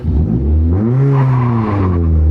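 A straight-piped 151-horsepower car with high mileage accelerates hard on a small drag strip, its loud engine note climbing steadily, close and dominant throughout.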